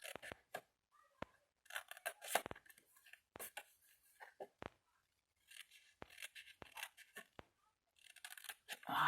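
Paper is cut straight with scissors for an embossing storage box, a series of quiet, crisp snips and rustles in irregular bursts, separated by pauses.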